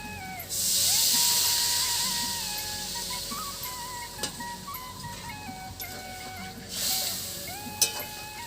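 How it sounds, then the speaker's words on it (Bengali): Water poured into a pan of sizzling spiced pointed gourd curry gives a loud hissing burst of steam that fades into a quieter bubbling sizzle, then flares again near the end, close up, no talk. "এবার অল্প করে জল দিয়ে দেব।"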